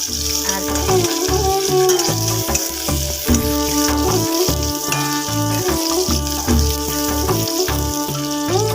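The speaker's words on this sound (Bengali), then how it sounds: "এখন এখানে লাল শাক ভাজা বসিয়ে দিয়েছি" Steady, crackling sizzle of red spinach frying in a pan, continuous throughout, with occasional stirring clinks and scrapes layered over a low rhythmic hum.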